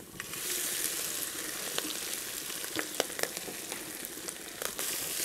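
Crushed coconut, green chilli, dried chilli and curry leaves stir-fry in a pan for a tender jackfruit thoran, a close hissing sizzle dotted with sharp crackles and pops and occasional stirring, without any speech.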